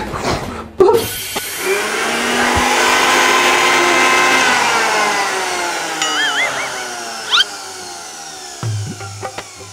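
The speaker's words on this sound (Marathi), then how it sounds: "मग मिक्सर चालू करा की" A home mixer grinder whirs up to speed and runs steadily for several seconds, loud and close, then winds down, with brief clicks and a faint phone-like chirp.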